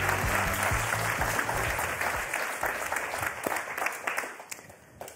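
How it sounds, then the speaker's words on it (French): Studio audience applause at a television game show, loud dense clapping with music underneath at first, then thinning and fading toward the end. "sous vos applaudissements, merci d'accueillir Thierry Beccaro."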